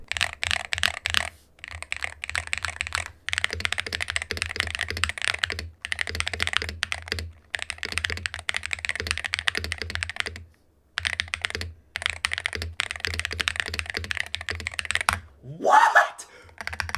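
Steady typing on a budget custom mechanical keyboard with stock stabilizers, a dense, close clatter of keystrokes in bursts separated by short pauses, ending with a brief rising squeak.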